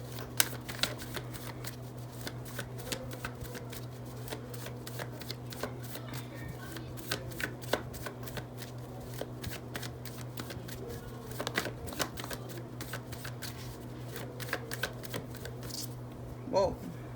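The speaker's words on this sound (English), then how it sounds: "let's pull the tarot cards" Tarot cards being shuffled, a steady run of soft riffling card clicks over a low constant hum, with a brief louder burst near the end.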